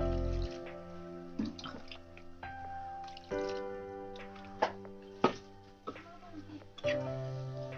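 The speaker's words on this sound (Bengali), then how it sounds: "এই তো আমি পানি দিয়ে দিলাম।" Water splashes and drips as it is poured into beef cooking in a pot over a clay stove, a run of short close splashes over a steady tonal background.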